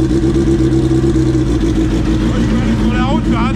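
An old motorcycle engine runs loud and close with a steady low throbbing drone, then climbs in pitch with rising revs near the end as the rider sets off on the road.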